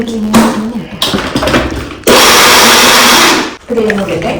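A kitchen mixer grinder crushes jackfruit in a short loud whirring burst, with someone talking before and after it.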